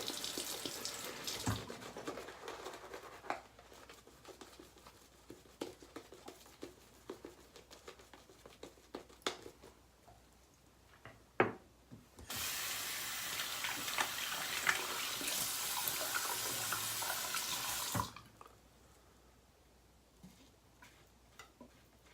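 A bathroom tap runs during a wet shave, first as faint intermittent trickles and splashes, then a loud steady gush of running water for several seconds before it shuts off abruptly.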